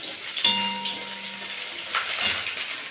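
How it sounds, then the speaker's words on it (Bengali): Ginger paste going into a hot pan of tempered five-spice seeds for a bottle gourd and prawn curry, with two clinks of a utensil against the pan and a soft sizzle between them. "একটু আদা বাটা দিয়ে দিলাম"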